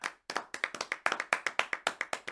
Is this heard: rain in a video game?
no